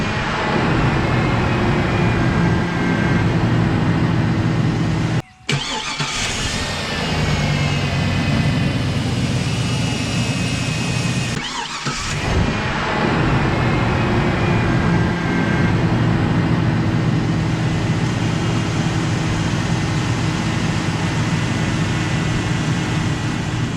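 An upgraded Ascender/Trailblazer hybrid engine runs with a loud, steady mechanical hum and drone, broken by two brief dips in sound, then settles back into its even running tone.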